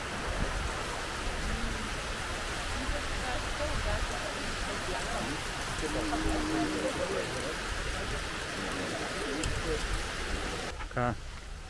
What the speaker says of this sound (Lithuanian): Bet pila tai kaip iš kybiro.